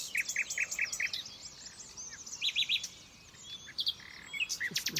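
A nightingale sings in a dawn chorus, repeated bright chirping phrases and rapid trills in bursts, with other birds faintly behind over a soft outdoor background.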